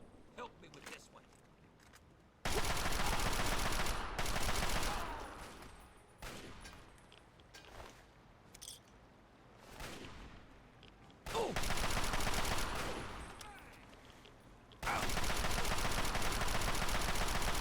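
Loud, sustained blasts of gunfire in Fallout 3, with several long sections of heavy shooting separated by quieter stretches of scattered sharp shots and movement.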